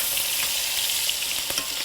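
Filet mignon sizzles loudly in a hot pan as fat is spooned over the top, a bright continuous crackle with faint clinks of the spoon, close up and without talk.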